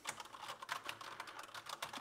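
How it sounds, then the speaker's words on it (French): An Asus ROG Strix Flare mechanical gaming keyboard clatters with rapid, fairly quiet keystrokes in an uneven rhythm, heard close and without any voice. "On a un clavier un petit peu sonore,"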